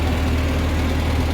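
An old Ford 8N tractor with a Sherman transmission putters along in high third gear, its engine a steady, loud, low rumble heard close up with no talk.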